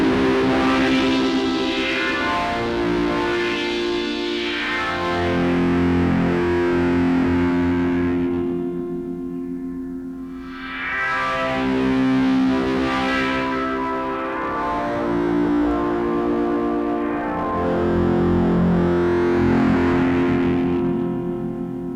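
Moog Minifooger drive pedal overdriving a synth patch, sustained gritty distorted tones swelling and fading in several long notes over about twenty seconds, loud and alone.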